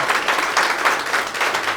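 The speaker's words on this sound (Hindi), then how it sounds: "एक बार जोरदार तालियां बजा दीजिएगा" An audience at an RCM success-story event in India applauds an award winner, a steady, moderately loud wash of clapping with slight pulsing swells.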